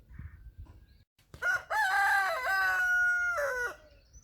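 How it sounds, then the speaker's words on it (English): A rooster on a homestead crows once, loud and close, with a long drawn-out call after a short quiet pause and some faint low background noise before it. "Oh, you want to meet the rooster first?"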